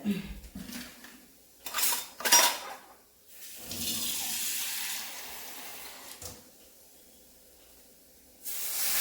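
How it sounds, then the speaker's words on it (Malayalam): Water is poured into a cooking pan in short splashing bursts, then a steady stream for a few seconds, followed by a quiet pause and a final gush at the end, close and clear. "ഇച്ചിരി വെള്ളം ഒഴിച്ച് കൊടുക്കുവാണ്"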